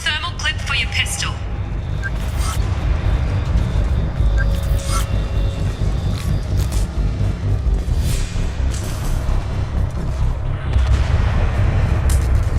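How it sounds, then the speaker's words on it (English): Canisters blowing up near a door in the game Mass Effect Legendary Edition, heard as a continuous heavy rumble of booms and blasts that carries through the whole stretch, loud and dense, with crackling bursts on top. "Those canisters by the door are going to blow."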